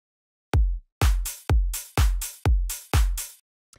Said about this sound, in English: So all it is it's just a simple kick, a simple clap, and then this little hi-hat